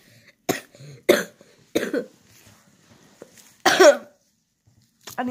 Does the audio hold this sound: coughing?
yes